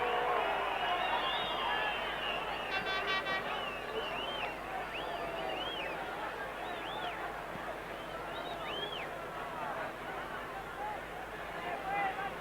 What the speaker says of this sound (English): Crowd enjoyed that one.